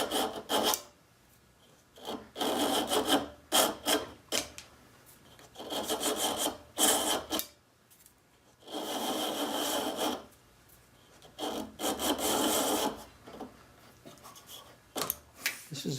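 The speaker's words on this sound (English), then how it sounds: "this bandsawed holly is a little rough with the bandsaw, so I can pull it through and smooth that out." A rough, bandsawed holly strip about 3/16 inch square is pulled through to smooth it. Repeated dry rasping strokes, close and steady, come in bursts of a second or two with brief pauses between.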